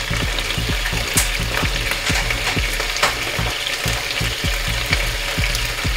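Ginger pork with salt koji sizzles and fries steadily in a hot pan, with repeated clacking stirs and scrapes of a utensil over the continuous crackle.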